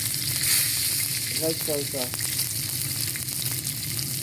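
Chicken wrapped in rice paper sizzles steadily in a pan with a dab of sesame oil and light soy sauce, a constant close frying hiss with a few brief clinks midway.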